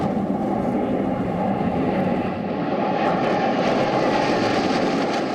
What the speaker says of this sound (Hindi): भारतीय लड़ाकू विमानों की गगनभेदी गर्जना से आसमान हिल गया।